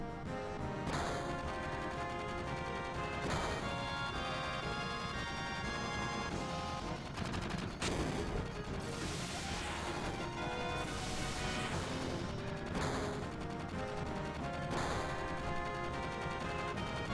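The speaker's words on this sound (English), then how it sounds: "Wait, you hear something above us?" Gunfire rattles through a Final Fantasy 7 game scene, with bursts and sharp cracks over a dense, continuous bed of music and effects.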